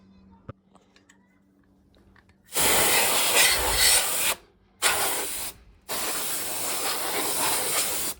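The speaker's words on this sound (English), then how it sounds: "let me go grab a duster can. I'll go try blowing out the memory sockets" Compressed air from a duster can hisses in three long bursts into the memory sockets of a Dell OptiPlex PC, loud and close, after a short quiet lead-in.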